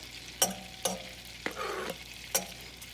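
Finely chopped onion frying in melted butter for chicken pot pie, a low sizzle punctuated by several sharp spoon knocks against the pan and a brief stirring scrape, no voices.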